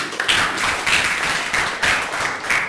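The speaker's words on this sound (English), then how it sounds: "Can I have a clap for all these three?" An audience at a financial freedom seminar claps loudly and close by, a dense burst of applause that swells in waves over nearly three seconds.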